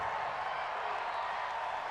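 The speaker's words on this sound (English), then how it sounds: "The crowd's not doing that O-line any favors." Stadium crowd at an NFL game between the Kansas City Chiefs and Pittsburgh Steelers, a steady dense roar of many voices with no breaks, loud and distant-sounding.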